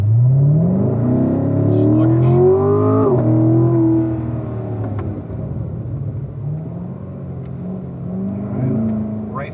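A Chevrolet C7 Corvette accelerates hard on an autocross course, its engine note climbing through the revs loud and close from inside the cabin, then easing to a lower rumble before building again.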